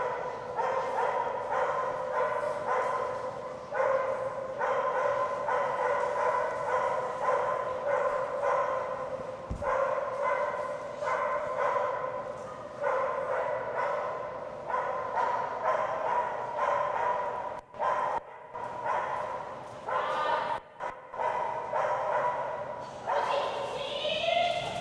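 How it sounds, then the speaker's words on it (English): Dogs bark and yip repeatedly at a dock-diving distance-jump competition, a steady stream of barks over constant event background noise. "I'm not sure who's barking back there."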